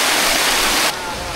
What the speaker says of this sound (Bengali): এই যে ঝর্ণা দেখা পাচ্ছি, ঝিরিপথটা এখান থেকে বাম দিক দিয়ে প্রবাহিত হয়েছে